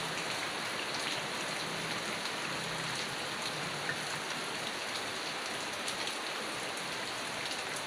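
Steady rain falls in a dense, even hiss of drops hitting surfaces nearby, unbroken and moderately loud from start to finish with no voices over it.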